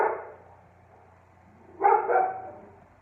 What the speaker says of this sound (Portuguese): o cachorro até latiu